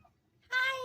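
A house cat gives a short meow in a kitchen, one brief call near the end following near-silence, fairly close and clear.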